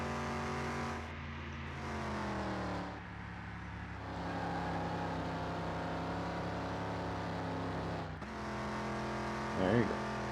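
Car engine driving in Car Mechanic Simulator 2021 at a race track, a steady droning hum with shifting pitch through gear changes and a car that struggles to reach fourth gear, plus a brief squeal near the end.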